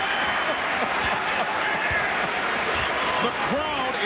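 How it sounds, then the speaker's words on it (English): A crowd of Knicks fans in a basketball arena during a 2002-2003 game against the Lakers cheers and claps in a continuous roar, with a commentator talking over it throughout. "The Knicks fans are starting to cheer for Kobe now."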